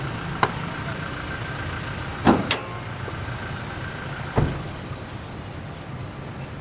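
A 2019 Nissan Calibre 4x2 engine runs at a steady idle, a constant low hum with a few sharp clicks and knocks. No one speaks over it.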